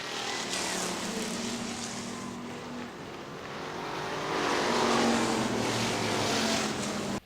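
Factory stock cars roar past at Hartford Speedway Park, Michigan, racing out of turn 4 toward the checkered flag: a loud, sustained engine drone that swells as the pack nears, with steady tonal engine notes throughout.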